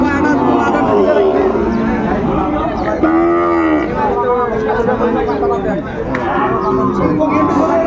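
A Sahiwal bull moos loudly and close at a busy cattle market, one long drawn-out call among other lowing cattle, with crowd chatter and voices throughout.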